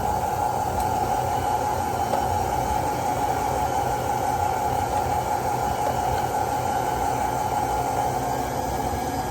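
A 1950s Sunbeam electric kitchen mixer motor runs at a steady high speed with a constant whirring hum and hiss, close and unbroken throughout, no voices.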